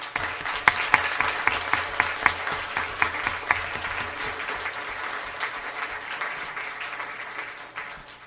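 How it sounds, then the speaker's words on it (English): An audience at a school district governing board meeting applauds for several seconds, a dense patter of clapping from many hands that thins out toward the end. "Let's give her a round of applause."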